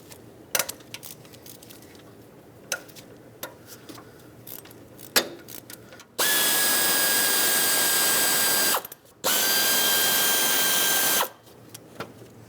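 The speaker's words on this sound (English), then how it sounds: "I'm going to break them free and then remove them the rest of the way" A power tool whines steadily in two long bursts while breaking loose 10mm thermostat housing bolts on a 2006-2011 Honda Civic, after several sharp metallic clicks and taps.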